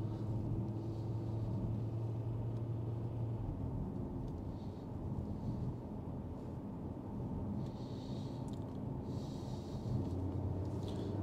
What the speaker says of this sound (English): But a really nice 5-cylinder engine sound.